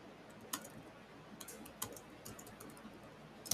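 Quiet computer keyboard typing with scattered sharp key clicks, a few louder taps standing out against a low background hiss, no speech.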